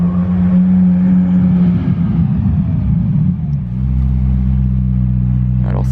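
A McLaren Senna drives past outdoors in Monaco, a loud low engine rumble that swells and then settles into a steadier drone near the end.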